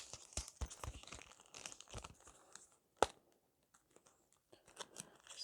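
Face sticker packaging sleeves are opened up close, with soft crinkling, tearing and plastic rustling in short bursts and one sharp snap, quiet and intimate with no talking.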